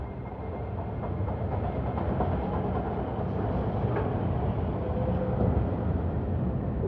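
A computer-controlled automatic train runs along its rails with a steady, loud rumble and faint rhythmic clatter that holds for the whole stretch, with no voices.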